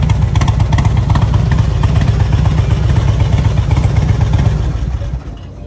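A steady, loud motorcycle engine idles close by with a low rumbling throb, running continuously before dropping off sharply near the end as it is turned off.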